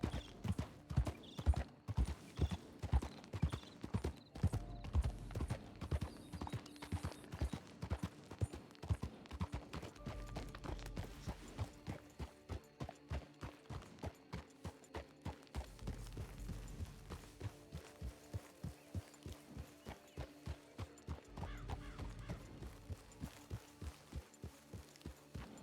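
Horse hooves in a video game clip-clop in a steady, even rhythm that lasts throughout, close and clear at first and then easing slightly.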